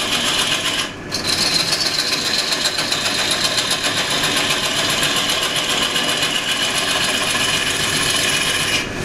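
A Rick Taylor skew gouge shears into a wooden platter spinning on a lathe, giving a steady, loud, continuous scraping rasp that runs almost unbroken, with one brief dip near the start.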